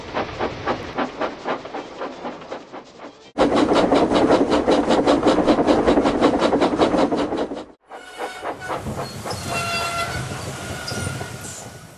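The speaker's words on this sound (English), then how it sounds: "A brand new tank engine was racing across the Southeastern Railway." A brand new tank engine races along the Southeastern Railway, loud and steady, with rhythmic clatter and a rushing roar that cuts abruptly between passing sections, and a whistle-like tonal sound near the end.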